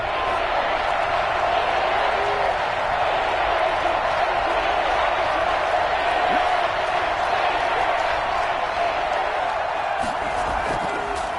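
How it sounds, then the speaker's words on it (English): Football stadium crowd roaring steadily ahead of a big third down, a dense continuous wash of cheering and noise that stays loud throughout with no clear pauses. "the crowd getting into it as we come up on a big 3rd down."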